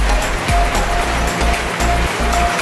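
Water gushes from a newly built hand pump well, with sandy, cloudy water coming out in loud rhythmic surges matching each pump stroke, close up and continuous.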